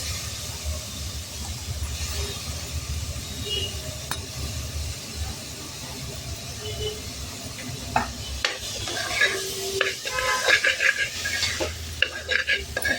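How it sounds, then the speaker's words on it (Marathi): Field beans (val) are sautéed in oil in a pan, giving a continuous low sizzle with scattered clinks and scrapes of a spoon against the pan, close up, growing busier toward the end, with no talking. "आता यामध्ये आपण बेड घालणार, ते पण छान तेलावर परतू आपण"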